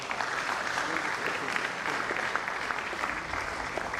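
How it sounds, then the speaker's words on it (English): Applause from an audience at an international management sciences conference at Bells University in Nigeria, a steady, dense wash of clapping lasting the full clip at moderate distance, with no speech over it. "I thought you would clap for us."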